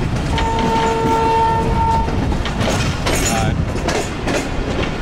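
A Pakistani passenger train, the Raman Baba Express, rumbles loudly and steadily with rattling carriages, while a sustained horn tone sounds for a couple of seconds early on.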